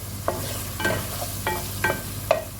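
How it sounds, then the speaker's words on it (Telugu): Food frying in a pan for a creamy chicken white pasta, an even sizzle broken by several distinct stirring scrapes at regular intervals, close and moderately loud with no talk. "1 నిమిషం వేగాలండి."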